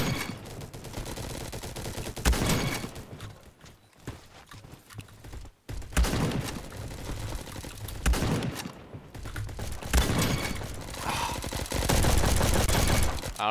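Gunfire in a shooter video game, a dense, loud rapid fusillade of shots in sustained bursts with brief pauses between them, dominating the mix.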